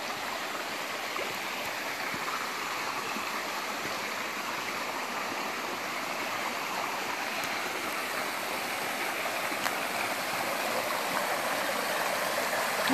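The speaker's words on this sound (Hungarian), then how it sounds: "A patak hangjai." A steady, continuous rush of flowing stream water in the Óbánya valley in the eastern Mecsek hills, Hungary, broad and even throughout with no pauses, fairly close and unbroken.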